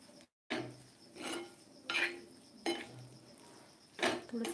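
Spoon scraping and clinking in a pan as spicy chili thecha chutney is mixed over a low flame, several distinct strokes spaced about a second apart, close and fairly quiet.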